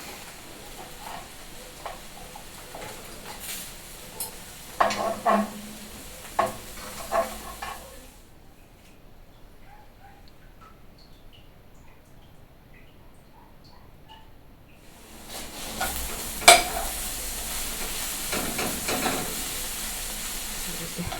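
Eggplant fries in homemade aromatic oil in a pan, soft sizzling and hissing with a few stirring clinks, fading to near quiet in the middle before a louder sizzle returns.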